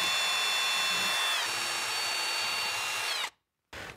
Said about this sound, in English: drill some pilot holes where our cabinet screws are gonna go.